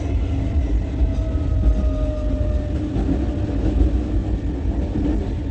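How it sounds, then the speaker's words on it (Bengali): Inside a moving train, a steady low rumble of the carriage fills the space, with a faint thin whine drifting in the background and no voices. "এই যে দেখো ট্রেনে করে যাচ্ছি"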